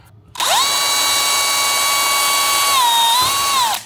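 A power drill spins up and runs with a loud, steady whine for a few seconds while drilling a hole to mount motorized roller shades, dipping slightly under load before stopping.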